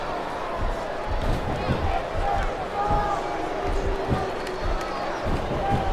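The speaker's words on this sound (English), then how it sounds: "Now the fans start to cheer for him." Steady arena crowd cheering and roaring in the wrestling video game WWE SmackDown vs. RAW 2007, a continuous loud wash of fans under commentary talk, with thuds of in-ring action.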